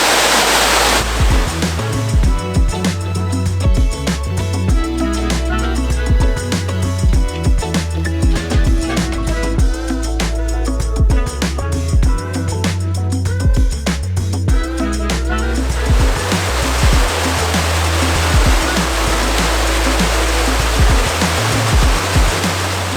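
A loud, steady roar of a waterfall at Wagmatcook, Cape Breton Island, continuous rushing water filling the whole clip without a break.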